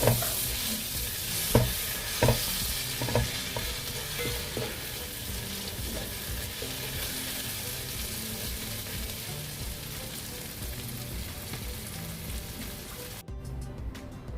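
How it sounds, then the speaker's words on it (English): Onions, tomatoes and curry leaves stir-fried in a pan for a Konkani-style brinjal and drumstick dish, with a continuous soft sizzle and several sharp spatula scrapes and taps early on, close and fairly quiet. "I have stir fried the onions, the tomatoes, I have added the curry leaves"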